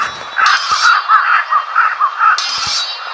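Crows caw over and over in a video game, rough repeated calls close and loud against a steady bright electronic backdrop, with a couple of short thumps near the end.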